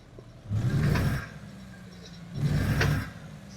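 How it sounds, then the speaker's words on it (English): A Western Star 49X truck engine in American Truck Simulator revs twice, each rise a smooth mid-pitched swell lasting about a second and then dropping back to a low idle hum, with no talking. "Let's see how this engine sounds."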